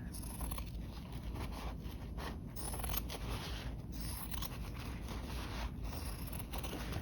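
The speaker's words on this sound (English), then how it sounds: "we're going to come in here and trim out the muslin" Long scissors trim muslin fabric while framing a canvas, a faint, steady snipping and scraping cut that runs on without pause.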